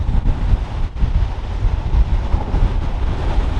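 Strong wind buffeting the microphone at a Southsea beach, a loud, continuous low rumble with gusty swells and a faint wash of surf beneath.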